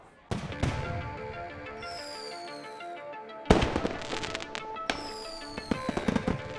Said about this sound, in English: The ancient Chinese invention, fireworks, still handmade like this